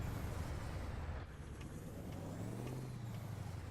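Heavy truck rumbling past in Euro Truck Simulator 2 on busy traffic roads, a steady loud engine drone with a brief dip and a faint air-brake hiss, no talk.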